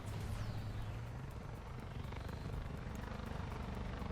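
A helicopter's steady, throbbing rotor drone in War Thunder fills the whole stretch, loud and close, with a continuous engine hum underneath.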